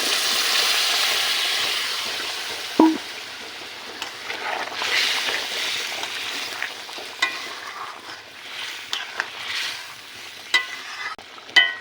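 Goat meat sautéing in a pan with a splash of hot water added, hissing loudly at first, then settling into a softer sizzle broken by scattered spatters and stirring clinks.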